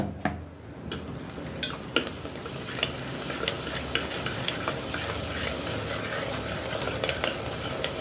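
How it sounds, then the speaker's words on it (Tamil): A steady sizzle of onions sautéing in a pan, with a spoon scraping and clicking against the metal every second or so. "இப்போ இதை வந்து நம்ம நல்லா வதக்கி விட்டுக்கலாம்"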